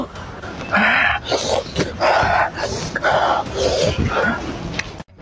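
A dog barks in loud, drawn-out bursts, four in a row at an even pace, with some faint talk underneath.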